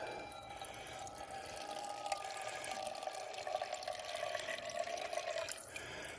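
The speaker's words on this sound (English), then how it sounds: "Now we'll open this and get some gas for priming in the priming cups." Gasoline trickling into the priming cups of a Caterpillar 60 crawler tractor engine, a faint continuous pouring and splashing that holds steady for several seconds with no talking.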